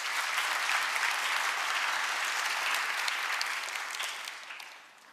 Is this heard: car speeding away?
no